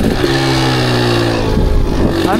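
A motorbike engine revs hard as the rider releases the clutch to lift into a wheelie, a loud, close roar with a rising then falling pitch, mixed with wind noise.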